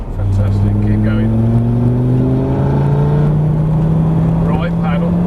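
A Lamborghini on a race track accelerates hard, its engine note climbing steadily in a loud, sustained whine heard from inside the car while an instructor coaches the driver.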